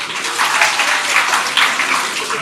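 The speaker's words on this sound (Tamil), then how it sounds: "கைத்தட்டி விரும்புறேன்" Dense, steady applause from an audience at a law college event in Chennai, a broad hiss of many hands clapping at once that stays loud and even throughout, with no voices rising above it.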